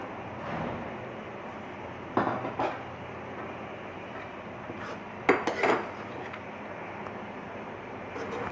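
Arvi (taro root) curry is served out of a pot into a dish, with a couple of bright clinks and scrapes of a spoon on metal against a quiet kitchen background.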